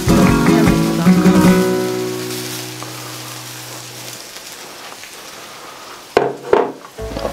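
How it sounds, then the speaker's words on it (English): Paella rice poured into a hot pan, a bright crackling sizzle that is loud at first and slowly settles, with a couple of metallic knocks of a utensil on the pan near the end. "I'm gonna add now our 300 grams of paella rice for 3 portions"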